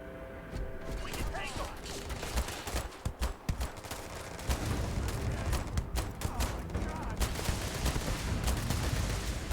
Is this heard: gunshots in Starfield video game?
yes